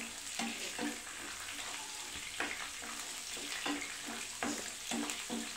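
Garlic frying in oil in a pan for a gooseberry pickle, a dense continuous sizzle with rhythmic stirring scrapes every second or so, close and steady, with no voices.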